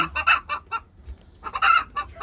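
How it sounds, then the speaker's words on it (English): Hen clucking in a farmyard on a cold day, several bursts of close, fairly loud clucks with a short pause between groups. "Mama chicken!"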